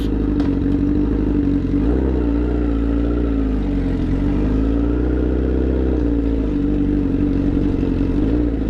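Honda CBR 1000RR motorcycle idling with a loose, partly detached exhaust, a loud, continuous low rumble with slight rises and dips in engine pitch and a rattly edge, close by and alone.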